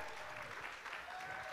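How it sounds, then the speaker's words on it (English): Faint applause from a small studio audience welcoming a guest on a talk show, a soft, even clapping texture heard from some distance. "can we please give a big, big round of applause for Clint419"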